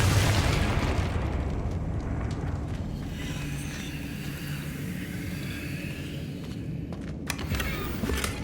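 Confringo blasting curse in the Hogwarts Legacy video game, a loud booming explosion at the start that rumbles and decays over several seconds, followed by a few sharp crackling bursts near the end.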